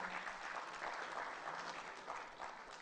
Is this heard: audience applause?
yes